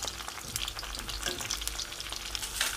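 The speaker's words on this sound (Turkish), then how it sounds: "Biberleri çok fazla kızartmayacağız." Green peppers fry in a pan with a steady, dense sizzle and crackle and a few brief stirring clatters, close and continuous, with no voices.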